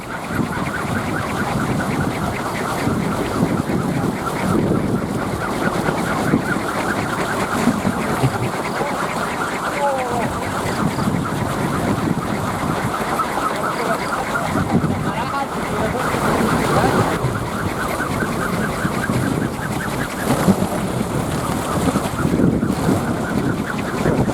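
Steady blustery wind roars across the microphone, driving a bamboo pinwheel windmill that makes a rattling, whirring flutter underneath, continuous throughout with faint voices mixed in.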